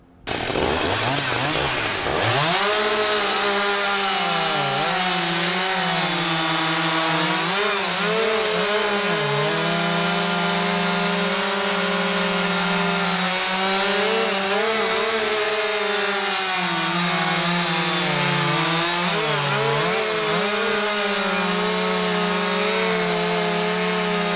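Husqvarna chainsaws with 20-inch bars roar continuously at high revs, loud and close, pitch dipping and straining as they bite through wood.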